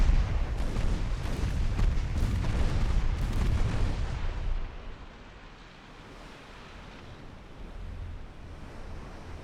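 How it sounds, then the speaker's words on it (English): Naval battle in a 1904-era battleship game, with torpedoes striking enemy battleships amid gunfire: loud, dense booming and rumbling bursts for several seconds, then easing into a quieter, steady wash like sea and wind. "Torpedoes are striking the enemy battleships."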